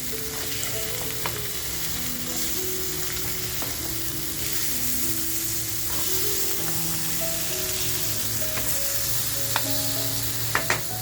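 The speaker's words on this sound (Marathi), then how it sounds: "बघा आपण आता मच्छी शेकून घेऊया" Pala fish sizzles and fries in oil in a pan over a full gas flame, a steady close crackle with scattered pops and faint tonal hum throughout.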